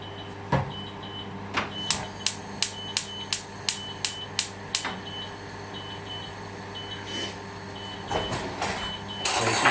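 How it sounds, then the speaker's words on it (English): A kitchen timer beeps about nine times in a quick, regular run against a background of sausages cooking in oil in a pan, with a few louder knocks before and after. "my beeper is going because that's telling me the sausages are done on one side"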